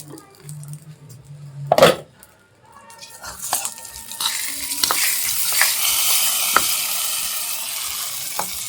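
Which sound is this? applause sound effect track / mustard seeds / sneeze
mustard seeds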